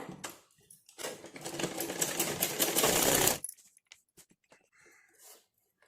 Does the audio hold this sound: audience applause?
no